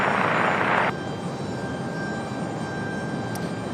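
An airplane landing on runway 23 left at Raleigh-Durham International Airport, its engines a steady, broad roar throughout, loud and fairly close. A brighter hiss fades out after the first second.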